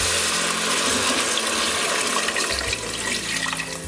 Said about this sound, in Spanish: le he puesto el agua